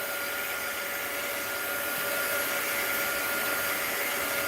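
A hair dryer blows steadily to dry ink on a mixed-media art journal page, producing a close, constant whooshing hiss with an even drone and no pauses.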